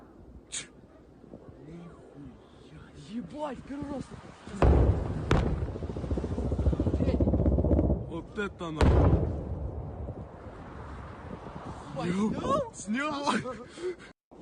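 Ballistic or cruise missile strikes hit the airport around Kramatorsk, heavy booming blasts with long rumbling tails, two big impacts among smaller thuds, and a voice talking intermittently between them.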